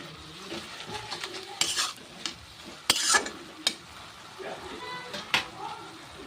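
Leafy greens fry in a pan with garlic and green chili, giving a soft steady sizzle broken by scraping stirs and a few sharp utensil clatters, while someone talks over the cooking.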